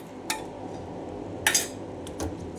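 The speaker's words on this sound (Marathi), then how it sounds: "तर पूर्णपणे आपण मिक्स करून घेणार आहोत म्हणजे सगळीकडे हा कलर हळदीचा लागेल" A spoon clinks and scrapes in a bowl while turmeric seasoning is stirred through puffed rice murmure chivda: a few light, close metallic taps against a steady background hiss.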